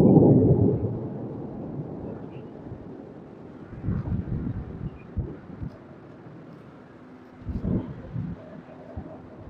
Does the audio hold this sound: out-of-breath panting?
no